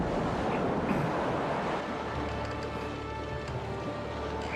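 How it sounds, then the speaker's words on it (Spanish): Wind and rolling sea waves on the Sea of Galilee in a children's Bible story, a steady loud roar of surf and gusts that fills the whole stretch with no pauses. "¡El viento nos está cambiando de ruta!"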